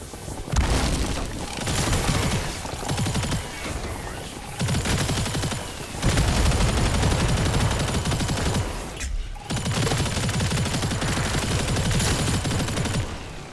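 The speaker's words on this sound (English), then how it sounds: "Good thing there's an awesome hover bike here that also happens to have a laser cannon minigun" Laser cannon minigun on a hover bike in the shooter game Turbo Overkill fires in a loud, dense, continuous barrage, broken by two brief pauses, with heavy booming low end and no talk.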